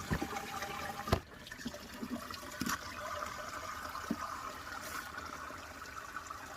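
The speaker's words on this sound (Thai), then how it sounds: "หลังจากนี้เราก็เทน้ำใส่นะครับ" Water is poured steadily into a container to mix a homemade plant hormone for a vegetable garden, a continuous close splashing stream with a few sharper knocks.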